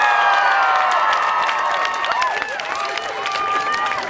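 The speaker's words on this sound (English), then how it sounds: "let's hear a cheer for all of you who are out here as this community today" A large crowd at a K-12 school rally for Milton Academy cheers and whoops loudly, with shouts and scattered clapping forming a dense, sustained roar that holds steady throughout.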